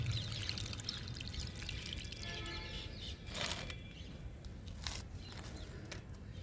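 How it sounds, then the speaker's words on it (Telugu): Water is poured onto a potted croton plant during home gardening, giving a steady splashing trickle throughout that swells briefly in a couple of places, close and moderately loud, with no talking. "క్రోటన్ మొక్కకి వాటర్ ఇద్దాము."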